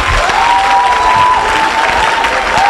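A church congregation applauds and cheers for Jesus during a deliverance session, dense, loud, continuous clapping with crowd noise and a high sustained shout running through it.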